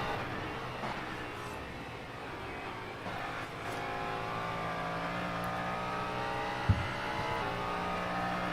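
A Cadillac DPi prototype race car's engine roars at a racetrack during practice, a sustained, loud, slightly shifting drone with no talk over it.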